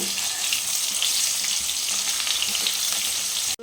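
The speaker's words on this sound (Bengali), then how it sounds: "এই যে আলুটা ভাজা হয়ে গেছে এই যে লাল লাল করে হয়ে গেছে ভাজা" Potato pieces with turmeric frying in oil for a Bengali chicken kosha, a close, dense crackling sizzle that stays loud and even throughout, with faint stirring and no speech.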